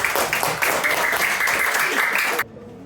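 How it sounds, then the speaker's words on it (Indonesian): A classroom audience at a lesson on coding and artificial intelligence claps after a group presentation, a dense burst of applause with some voices mixed in that stops abruptly, leaving a quiet room. "Beri aplaus dulu."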